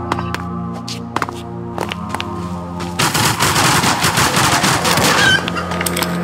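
Gunfire in the video game Zombie Stories starts as scattered single shots, then becomes a sustained rapid automatic burst that runs loud and continuous to the end.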